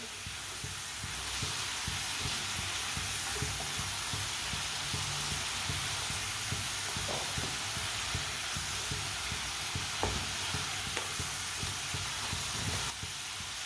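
Potato chips frying in hot oil on a stove, a steady dense sizzle running evenly throughout with faint stirring clicks and no talking.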